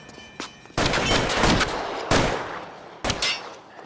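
Gunshots ring out in an L.A. Noire shootout, a faint early shot followed by a long loud volley, then two more sharp bursts with short pauses between.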